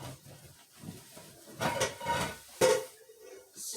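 Pans knock and scrape faintly as someone rummages through a kitchen cupboard looking for them, with a few soft clunks and one sharper clank near the end.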